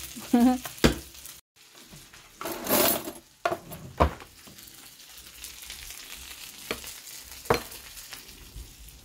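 Meatballs frying in a pan, a faint low sizzle running underneath with several sharp clatters and scrapes of stirring, plus one louder burst of hissing midway.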